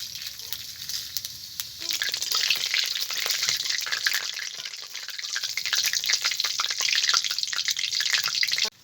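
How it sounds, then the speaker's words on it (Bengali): Dry red chillies, torn bay leaves and panch phoron fry in hot oil with a loud, continuous crackling sizzle and sharp popping spurts that build toward the end. "ফোড়নটা আমার ভালো করে ভাজা হয়ে গেছে"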